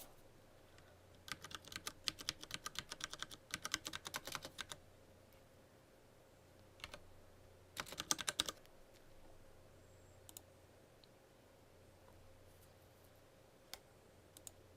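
Card details are keyed in by hand on a computer keyboard during a credit card payment: quiet, close keystrokes in quick bursts separated by short pauses, with a few isolated taps near the end.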